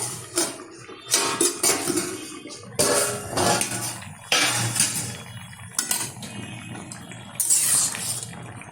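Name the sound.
lifting the lid off a cooking pot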